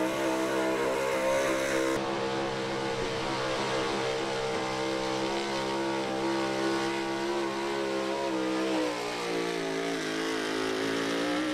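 A pulling truck at the 2023 East Coast Nationals truck and tractor pull roars off the line, a loud sustained engine howl with steady rising harmonics that holds for several seconds and shifts slightly in pitch near the end.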